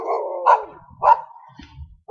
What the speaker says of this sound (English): And those are my dogs barking.